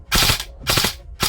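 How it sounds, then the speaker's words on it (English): An airsoft M14 fitted with a Perun unit fires in burst mode, giving three sharp, close, rattling bursts in quick succession with no talking. "Burst fire."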